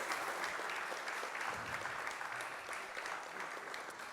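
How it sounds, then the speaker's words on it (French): Faint, steady applause from the audience at a French talk on generative AI, a dense wash of clapping that holds evenly throughout. "on peut l'applaudir."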